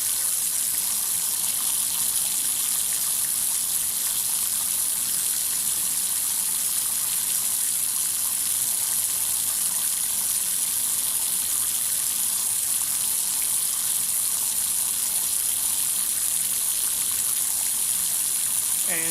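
Tap water running steadily in a chemistry lab during a vacuum filtration for a methyl benzoate nitration, a continuous loud hissing rush that never changes.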